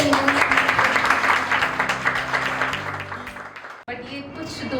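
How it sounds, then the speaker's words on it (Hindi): Audience applause at a yoga institute's foundation day felicitation program, a steady broadband clapping that fills most of the clip with tonal music or voices beneath, then cuts off sharply near the end before quieter sound resumes. "तो एक बार जोरदार तालियों से"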